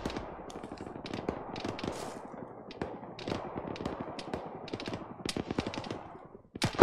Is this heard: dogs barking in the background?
no